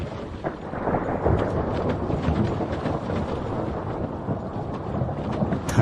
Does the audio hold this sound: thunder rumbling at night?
yes